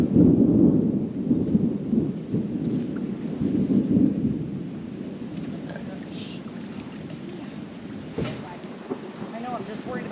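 Low rumbling thunder rolls through a rainy storm at an off-road winch recovery, heavy at first then easing, with wind buffeting the microphone.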